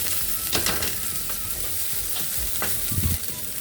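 Ginger being stirred and sautéed in a pan for a crab dish, with a steady frying sizzle and scraping stir strokes recurring close by, and no voices.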